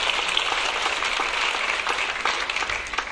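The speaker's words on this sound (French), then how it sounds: "vous pouvez applaudir" An audience at a medal ceremony in Chelles applauds steadily, a moderately distant, even wash of clapping that holds throughout without voices.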